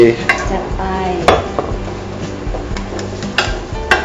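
Ingredients for a mango chili paste dry-roasting in a pan, with a soft crackle and repeated sharp scrapes and clinks of a utensil stirring against the pan.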